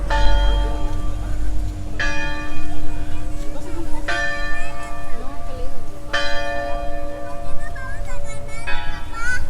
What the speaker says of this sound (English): Some kind of church bell ringing.